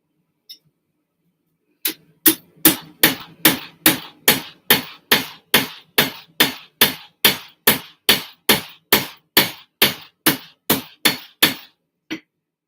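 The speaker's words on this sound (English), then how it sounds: "This blade and the other little one Corey's been hammering" Metal hammer blows strike a snakeskin-pattern cleaver blade in a steady, evenly spaced rhythm, about twenty sharp ringing hits, loud and close with nothing else around.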